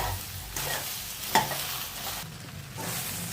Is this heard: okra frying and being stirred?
yes